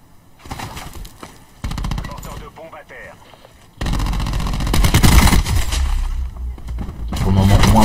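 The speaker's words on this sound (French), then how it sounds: "l'ABR c'est une arme à rafale" Rapid bursts of video-game gunfire from the ABR, a burst-fire weapon firing three or four rounds per trigger pull, come in loud clustered volleys, with a commentator talking over parts of the action.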